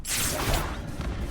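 A fiery Confringo spell is cast in Hogwarts Legacy: a short, bright whooshing burst that rushes out and fades within about a second, with no talking.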